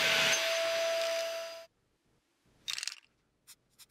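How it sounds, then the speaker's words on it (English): Jigsaw cutting a piece to size, a loud close buzzing rasp for over a second that stops abruptly, followed by a brief clatter and a few scattered knocks as the workpiece is handled. "Here I'm just cutting my piece to size using a jigsaw."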